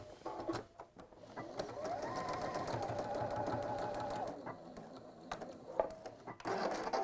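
A sewing machine runs a long steady stretch across aligned fabric seams, stitching forwards and back, with short starts and stops at either end. It is close and fairly quiet, and no one talks.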